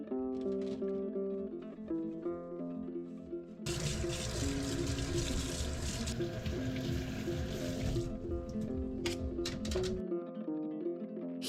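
Tap water runs over outlet covers being washed with soap, a steady gush that starts partway through, over background music and without speech.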